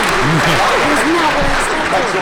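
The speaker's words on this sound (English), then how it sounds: "I think that deserves a round of applause" Audience applause fills a panel room at the EVO 2018 fighting-game event, a dense, loud, steady wash of clapping with voices cheering and talking throughout.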